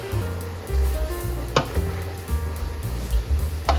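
Gomen (kale and collard greens) being stirred in a hot pan: a steady low sizzle with scraping stir strokes and a couple of sharp utensil clacks against the pan, close and fairly loud.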